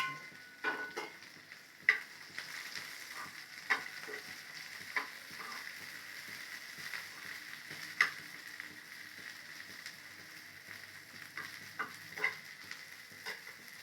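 Eggplant pieces and tomato fry quietly in a pan, a soft continuous sizzle with regular spoon scrapes and taps every second or two.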